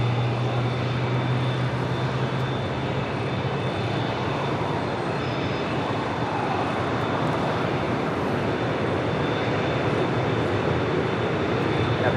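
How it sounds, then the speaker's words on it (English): A Boeing 747 landing on runway 25 left at Los Angeles International Airport, heard as a steady, loud roar of jet engines that holds for the whole stretch without letting up. "the Queen landing on 25 left"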